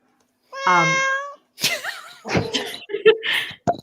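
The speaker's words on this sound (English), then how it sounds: "Yeah, that was really loud. Sorry. Keep going. I'll just deal with the cat." A cat lets out one loud, drawn-out meow close to the microphone during a live women's football show, followed by laughter and people talking.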